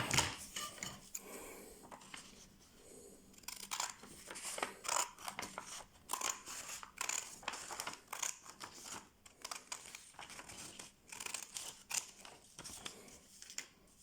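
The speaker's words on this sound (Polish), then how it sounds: "I ten trójkąt zostawiamy, odcinamy ten pasek." Scissors cut a paper strip off a sheet folded for origami, a series of crisp, close snips and crinkles of paper at an uneven pace, quiet, with no talking.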